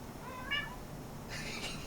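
A house cat meows twice near a 1988 Snyder General furnace, one short clear call and then a longer, broader one, over the steady low hum and rush of air blowing from a heating duct.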